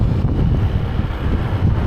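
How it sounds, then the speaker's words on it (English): Steady, loud wind buffets the microphone on a river bank by the Han River in Da Nang, a continuous low roar with no voices. "Today is so windy."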